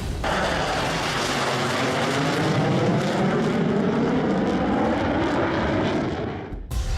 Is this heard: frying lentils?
no